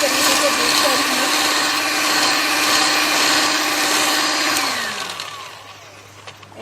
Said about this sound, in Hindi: अब मैं इसको इन दोनों चीज़ों को जो है वो अच्छी तरीके से मिक्स करूँगी